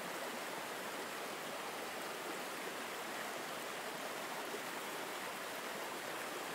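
A waterfall in a garden gives a steady, dense rush of falling water. It is constant and even, with no breaks and no voices.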